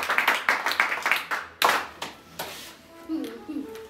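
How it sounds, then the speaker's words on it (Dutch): A small group claps at a municipal award ceremony in the Netherlands, sharp close hand claps in a quick burst that thins out and fades, with faint voices murmuring afterward. "Applaus."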